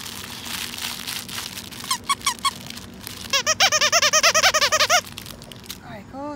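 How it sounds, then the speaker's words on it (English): A squeaky dog toy squeaked repeatedly, a few quick squeaks then a rapid run of about a dozen, close and loud over soft rustling. "Oh, it's got a squeaky squeaker."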